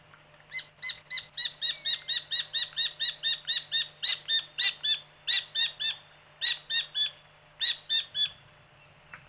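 A white-collared kingfisher calling at its nest in the Kalba mangroves, a long series of sharp, evenly spaced repeated notes, loud and close, slowing slightly toward the end.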